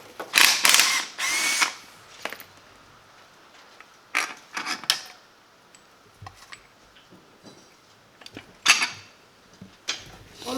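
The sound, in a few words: ratchet undoing inlet manifold bolts on a Fiat Punto GT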